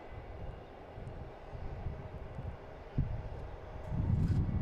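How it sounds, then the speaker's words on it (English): An Etihad airliner turning on approach to land at Boston Logan airport makes a distant, low, steady rumble that swells louder toward the end. "I think this is Etihad coming in right now, making the turn."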